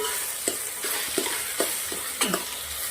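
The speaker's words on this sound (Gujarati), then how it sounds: "હવે મસાલા નાખ્યા પછી સાંતળી લઈશું સરસ 2 મિનિટ" Steady hiss of masala spices and vegetables sautéing in a pan, with periodic scraping strokes of a spoon stirring every half second or so.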